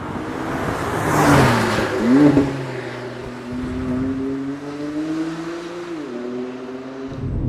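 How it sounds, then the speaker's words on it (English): A BMW M3 CS engine revs hard, its induction roar rising and falling before settling into a steady, droning exhaust note with harmonic whine, close and loud. "You just hear induction sound, and then you hear exhaust sound."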